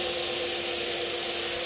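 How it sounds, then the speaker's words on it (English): Paint sprayer misting metallic paint onto the top of a piece of furniture, a continuous close, steady hiss with an underlying motor whine. "We're going to spray the top now."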